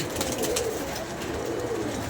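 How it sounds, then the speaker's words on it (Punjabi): A homing pigeon coos softly, a low throaty murmur rising and falling over about two seconds, close but quiet, with no one talking. "ਸਾਡਾ ਕਬੂਤਰ ਆ ਗਿਆ"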